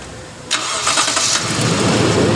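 A 2013 Toyota Land Cruiser engine cranks and fires up close by, catching after a brief starter whir and settling into a loud, steady idle.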